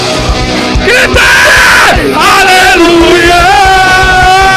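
A church congregation at an online Portuguese-language worship service shouts and cheers together at full volume, a loud sustained mass of yelling voices that swell over a continuous sung note.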